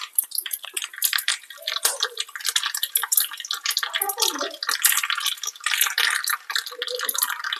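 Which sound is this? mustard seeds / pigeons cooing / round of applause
mustard seeds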